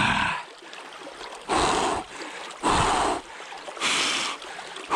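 Water flows in a stream while a heavy gold trap is rolled along the rocky bed, giving four loud surging splashes about a second apart over a steady trickle.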